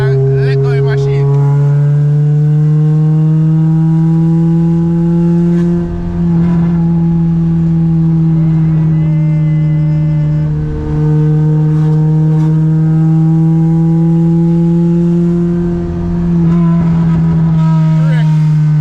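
A race-prepared Toyota Corolla with a 2ZZ-GE engine drives loudly from inside the cabin, its revs climbing and falling in sustained, rising tones through the gears, while people talk over it now and then.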